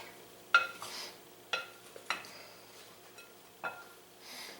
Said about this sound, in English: I use a spoon, just kind of work this around